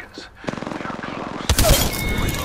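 Rapid automatic gunfire in a video game, with a steady burst of shots that grows louder and harsher halfway through and runs on to the end.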